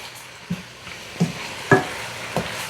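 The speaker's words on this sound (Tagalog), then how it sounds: "hayaan muna natin yan para matosta bahagya. Haluin na natin." Ingredients sauté in a pan with a steady sizzle while a spoon scrapes and stirs in four or five distinct strokes, close and moderately loud.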